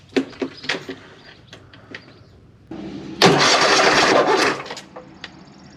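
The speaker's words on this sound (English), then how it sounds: "This is a cold start." Cold start of a V-twin engine with a fault that leaves it sputtering: a few separate clunks and pulls, then a loud burst of about a second and a half of cranking or firing that dies away.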